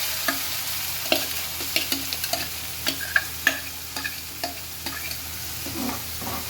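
Ground masala paste for a yogurt sambar fries in a pan while a spoon stirs it, giving a soft, steady sizzle with sharp scraping ticks scattered irregularly throughout, fairly quiet and without talk.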